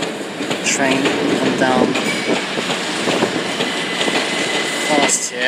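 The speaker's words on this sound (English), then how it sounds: "Train come down fast here." A train passes fast through Willesden Junction, a loud, close roar with rapid clickety-clack over rail joints and faint squealing tones throughout.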